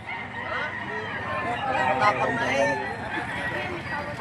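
A Boston Roundhead gamecock crows amid the bustle of a livestock auction in Padre Garcia, Batangas, the crow rising mid-clip over steady crowd noise and nearby chatter, with people talking throughout.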